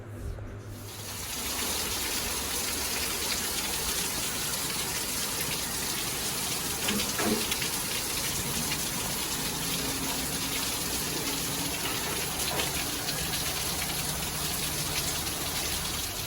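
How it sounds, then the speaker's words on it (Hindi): Steady rain pours down outside on a monsoon evening in India, a dense continuous hiss of falling water that fills the whole stretch at an even, fairly close level with no voices. "अभी बारिश हो गया"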